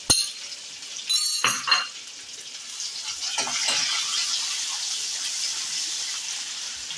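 Small chopped onion dropped into hot oil for moong dal, bursting into a loud sizzle with a few sharp clatters of a utensil, then settling into steady frying that continues to the end.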